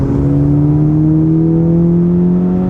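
Turbocharged Honda Civic Si, a 10th-generation car with an upgraded turbo, holds a steady engine drone around 4,000 RPM in third gear, loud and close throughout with no talking.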